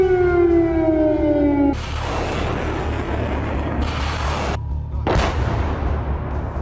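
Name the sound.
air raid siren warning of Russian attack in Ukraine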